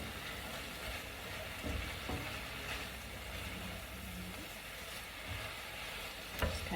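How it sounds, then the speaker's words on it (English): Spinach sizzles quietly in a skillet with steak juices, a soft, continuous crackle with occasional stirring scrapes and clicks. "And so now we're gonna add some spinach in here."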